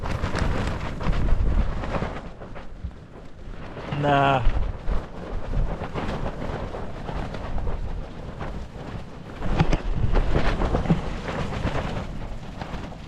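Violent wind at a wild camp in the Yorkshire Dales shakes and flaps a tent in loud, rumbling gusts that rise and fall for the whole stretch, with a brief spoken word partway through.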